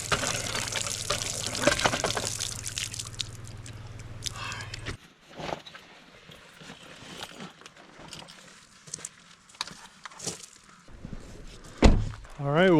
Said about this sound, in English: Gotta fill up my water bottle while I got a chance.